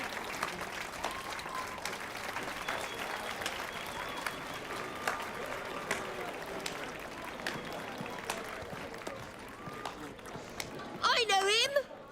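Crowd applause and cheering in The Witcher 3 game, a steady wash of clapping running throughout with a brief louder burst near the end.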